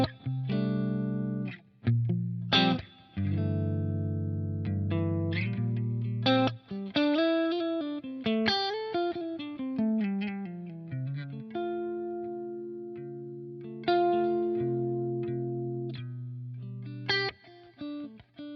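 Electric guitar with a clean tone through a Vemuram effects pedal: chords and single-note runs with sustained ringing notes and brief pauses, played alone without talk.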